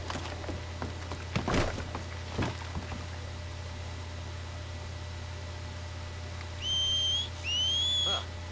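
In the Red Dead Redemption 2 video game, two rising whistles sound near the end, each short and clear, after a few dull thumps over a steady low hum.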